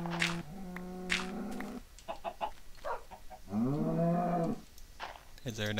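Minecraft cows give several loud, drawn-out moos in close succession, mixed with chicken clucks from the game's farm animals and brief talking between them.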